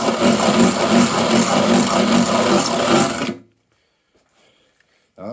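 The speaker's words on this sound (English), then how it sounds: "that's not the recommended way to use a drill bit to widen a hole" A drill bit grinds into wood to widen a hole during a top box build, a steady buzzing rasp for about three seconds that stops abruptly, followed by near silence and a brief faint noise at the end.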